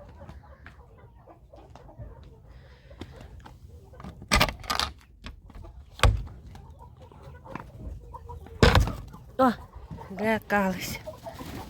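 Faverolles chickens cluck and squawk in short bursts nearby, with scattered tapping and rustling between calls and a brief spoken word.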